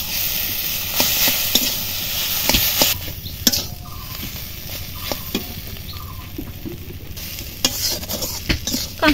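Jackfruit seeds sizzling in a pan with turmeric, chili powder and salt, a spatula scraping and stirring them in sharp irregular clacks over a continuous close frying hiss.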